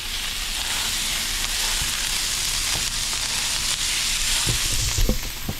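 Pieces of meat fry in a pan with a continuous loud sizzle heard up close, broken near the end by a few soft knocks of a spatula cutting them apart.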